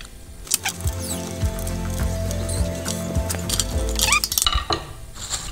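Screws being tightened by hand while a SEKAI ceiling fan is assembled, giving close ratcheting clicks and metallic scraping of parts, with clanks and rattles scattered through the passage.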